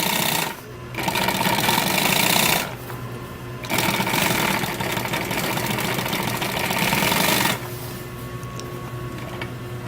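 Sewing machine stitching two pieces of seat fabric together, a steady fast mechanical whir in three runs separated by short pauses, close and clear with no talk.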